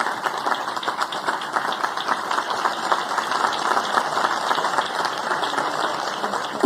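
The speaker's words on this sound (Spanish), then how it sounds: "Un fuerte aplauso, por favor." Dense, steady applause from an audience at a Colombian presidential ceremony for the signing of the National Development Plan. The clapping holds at an even, full volume throughout.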